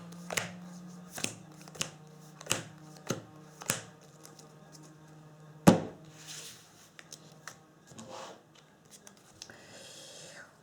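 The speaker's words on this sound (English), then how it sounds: "So I'm going to draw 7 cards." Magic: The Gathering cards being drawn one by one in a solo Journey into Nyx game: a series of crisp, evenly spaced card snaps and slides, close and quiet, followed by softer table handling.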